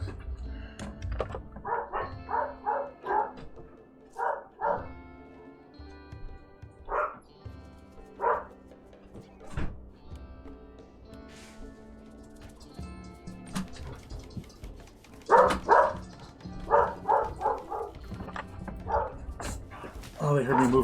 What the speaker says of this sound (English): came all the way down to the hall and started barking at my door for a second